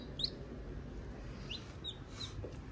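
Newly hatched chicks peep in short, high chirps scattered through the clip, a few separate calls over a steady low background hum, fairly close but soft.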